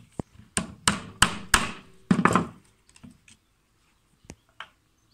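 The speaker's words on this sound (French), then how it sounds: "on va se servir d'un clou comme ça pour faire un pré-trou" A hammer drives a nail to make a pilot hole, about eight sharp close blows in an uneven rhythm, then a few softer taps after a pause.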